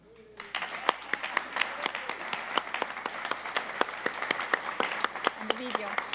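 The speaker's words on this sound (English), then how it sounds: "Please join me in giving this incredible team a round of applause." An audience at a LIGO press conference applauding the team, with sparse individual claps that thicken into steady, moderately distant clapping, and a voice briefly heard near the start and end.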